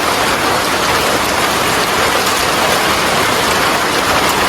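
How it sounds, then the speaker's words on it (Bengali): Heavy rain pours down in a dense, unbroken hiss, loud and close, with no pauses or voices across the whole stretch. "বৃষ্টি শুরু হয়ে গেছে"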